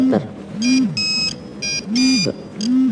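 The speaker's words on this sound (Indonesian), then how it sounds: "Aku angkat telepon dulu ya, bentar ya." A phone rings with repeated bursts of bright electronic tones, several rings in quick succession, set against a low tonal hum and background noise in a dusty room.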